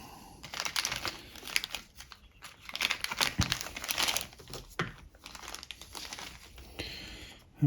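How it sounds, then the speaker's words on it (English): Small metal parts are slipped back into a plastic bag, crinkling and rustling in bursts with faint clinks, close by and quiet. "let's put all these little bits back in the bag till we need them"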